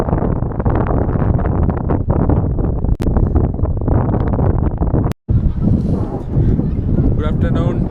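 Strong sea breeze on Mandarmani beach buffets the microphone in loud, low gusts throughout, with a brief dropout and lighter rustling toward the end.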